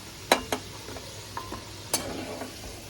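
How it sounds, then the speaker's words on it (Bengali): Pumpkin pieces frying in a pan without salt or turmeric; a soft background sizzle under several sharp clacks of a spatula against the pan, close and intermittent. "এবার কুমড়োগুলো ভেজে নিতে হবে উইদাউট নুন হলুদ।"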